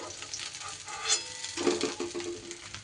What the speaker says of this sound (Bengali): এদিকে বাকি এই মাছগুলোও কিন্তু আমার বেশ সুন্দর সুন্দর করে ভাজা হয়ে গেছে